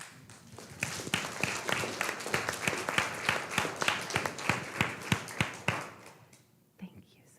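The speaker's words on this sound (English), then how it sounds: "So maybe one more round of applause for these guys." An audience at a school board open session gives a round of applause, a dense spread of clapping that swells and then tapers off near the end.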